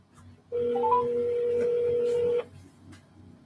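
A telephone call to Mojo Selling Solutions rings out as a single steady electronic tone lasting about two seconds, preceded by a short rising beep, fairly clear over a quiet background.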